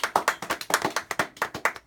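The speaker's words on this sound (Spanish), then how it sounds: "Denle un aplauso al Señor y déselo bien" A church congregation claps in steady, quick rhythm during a worship service, with a dozen or so sharp claps over about two seconds and no talking.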